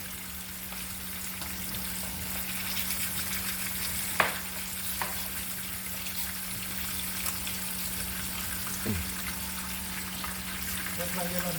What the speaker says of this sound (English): Scotch bonnet here. Let's stir this up. I'm going to add a little piece of butter in here.